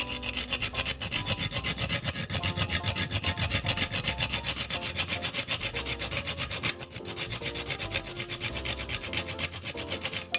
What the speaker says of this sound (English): I have a rasp here. And I'm just going to grate some into our mixture.